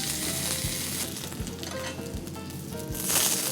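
Eggplant sizzles and fries in hot oil in a pan, a steady crackling hiss with a few soft stirring thumps, growing louder near the end; no talking.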